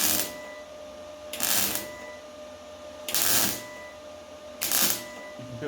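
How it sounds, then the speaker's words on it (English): Welding over worn metal on a Bedford CA camper produces three short bursts of crackling, sizzling arc noise, each about half a second long, close and loud, with a quiet hum and pauses in between. "what I'm doing is just welding over it and then I'll grind it back"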